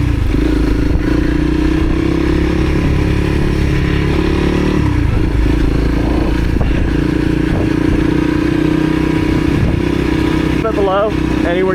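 A Honda CRF300L dual-sport motorcycle rides along near Santa Monica Pier with a loud, steady engine drone and some wind rumble throughout. Someone talks briefly over it near the end.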